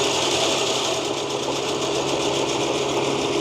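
A sprayer pump runs continuously with a steady mechanical drone and a rapid buzzing rattle, close and fairly loud, its pressure regulated by a rheostat, with no talking over it.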